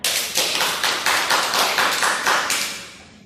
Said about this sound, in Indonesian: Tolong beri aplaus untuk Nabia